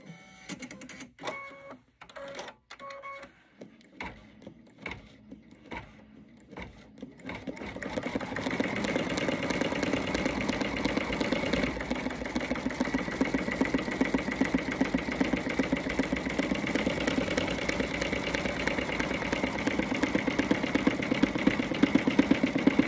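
Embroidery machine stitching a droid design: first a few sparse stops and starts with clicking, then a steady, loud, rapid mechanical chatter of the needle running continuously to the end, with no talk.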